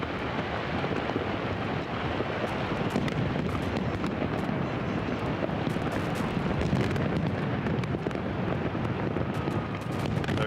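New Year's millennium fireworks over the Thames in London, heard from a distance as a continuous dense rumble of bursts and crackle, with wind-like noise and no clear separate bangs.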